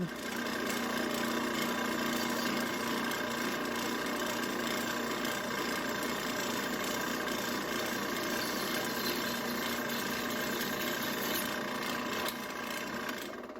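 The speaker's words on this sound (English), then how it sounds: "it actually drilled a little too easy" Steady high-pitched whine of a power drill grinding through a knife blade's steel, continuous and loud for the whole stretch.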